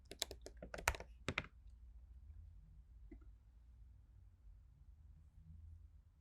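Fingers type a city name into a search field on a computer keyboard, a quick cluster of sharp, close key clicks lasting about a second and a half, then a faint quiet room hum with one more soft tap.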